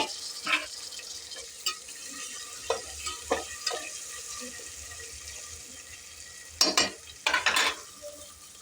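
Tomatoes added to a pan for egg biryani give a soft sizzle under scattered stirring clinks, scrapes and a few louder clatters near the end.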